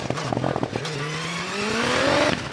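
A Hayabusa-engined hillclimb car launches off the start line at Prescott, crackling with pops and bangs before the engine note climbs steadily in a loud, close, rising scream of acceleration.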